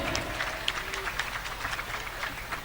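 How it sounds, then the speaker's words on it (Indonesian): Light applause from the audience at the final of a school debate competition, steady scattered clapping, fairly quiet and distant. "Tepuk tangan sekali lagi buat para finalis."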